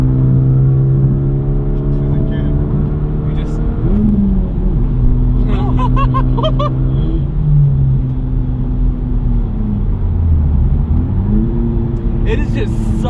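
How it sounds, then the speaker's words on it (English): A 2018 Honda Civic Type R revs up and drops back as it rev-matches between gears, engine tone swelling and falling several times beneath steady cabin road rumble while a person talks over it. "having the rev match go on and just listening to the rev match"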